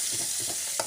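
Turnip and potato curry with egg frying and being stirred in a pan, a steady close sizzle with soft scraping strokes and a brief louder stir near the end.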